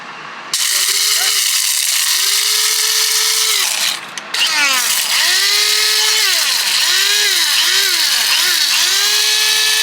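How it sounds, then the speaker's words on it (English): An electric coffee grinder whirs loudly as it grinds coffee beans, a steady high motor drone with a brief dip partway through and pitch wobbles as the grinder is tilted, while a voice speaks intermittently over it. "And now all we gotta do is grind the beans."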